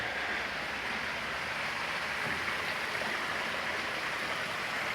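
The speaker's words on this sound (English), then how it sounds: "the waterfall is still going." A waterfall inside a conservatory pours steadily, making a continuous broadband rush of falling water that stays even and unbroken throughout, with no voices over it.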